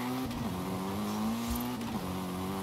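In a racing game, a car corners on a track using the handbrake, its engine note dropping and rising as it revs through the bend, with a faint tire squeal, steady and fairly quiet with no talking.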